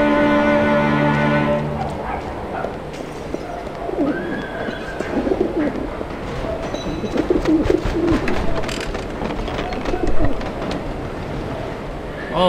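Caged birds coo softly and repeatedly in Alice: Madness Returns, a steady murmur of dove-like calls over ambient game sound, with a sustained tone fading out at the start.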